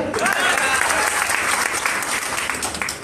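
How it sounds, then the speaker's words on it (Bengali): A crowd claps loudly and continuously at a business gathering, dense applause at an even level with a faint murmur of voices underneath. "হাততালি দেন।"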